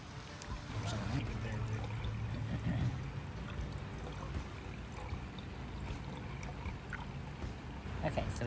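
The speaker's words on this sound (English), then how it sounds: "so we've got a full jar of clean water" Water from an ITEHIL portable filtration system pours steadily into a jar, a soft continuous trickle with faint background noise and no speech.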